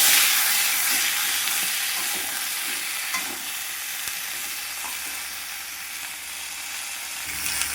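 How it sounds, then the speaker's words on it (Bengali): Raw banana and potato pieces sizzle and hiss in hot oil tempered with cumin and bay leaf, a steady close frying sound with occasional stirring scrapes. "এইবার আমি তেলের উপর জিরে সম্বার দিয়েছি, তেজপাতা, আর এই কাঁচা কলা আলু দিয়ে দিলাম।"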